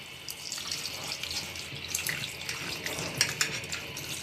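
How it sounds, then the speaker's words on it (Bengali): Cold tap water runs steadily over dough being washed by hand in a sink, a constant hiss and splash with a few louder splashes near the end, with no voices. "ডোটা আমি ঠান্ডা জলে ধুতে থাকবো।"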